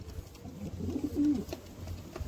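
A pigeon gives a short, soft, throaty coo nearby, with faint background hum and no voices.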